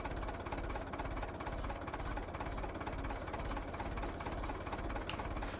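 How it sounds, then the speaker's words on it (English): A tractor engine in Farming Simulator 17 left idling, a steady, low, throbbing chug with rapid regular pulses at moderate volume, running alone without voices. "We have to leave the engine running, unfortunately."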